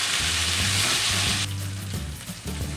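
Garlic paste, about a tablespoon, sizzles loudly in a hot pan for a Chilli gobi recipe, with a steady broadband fry for the first half, then softer sizzling and scraping stirs continuing close up.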